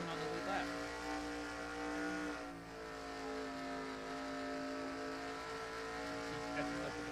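A race car engine drones steadily at high revs as it powers out of pit lane ahead of the pace car in a stock-car racing video game, a sustained harmonic roar with a brief dip midway, commentary talk running underneath.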